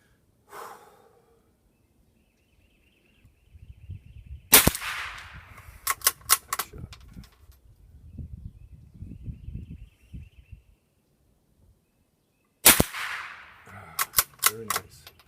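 A rimfire rifle fires a five-shot group at a range, single sharp reports spaced a few seconds apart in two bursts, each followed by quick mechanical clicks of cycling the action, with faint breathing and rustling between.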